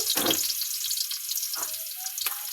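Onions and tarukog mushrooms sauté in a pan with a soft, steady sizzle and a few sharp bursts of frying and stirring, heard close and quiet.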